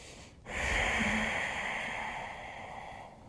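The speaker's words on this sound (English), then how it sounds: "2 more breaths." A deep, forceful breath during a yoga pose, a long exhale heard close up with an audible nasal hiss, a single sustained breath that fades gently.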